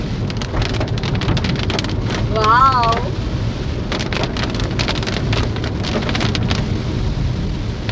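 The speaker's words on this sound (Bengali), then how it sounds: "বৃষ্টি আসছে।" Steady rain pours with a dense, loud hiss, heard from inside a car on a monsoon road trip near Netarhat, while a voice briefly exclaims over it.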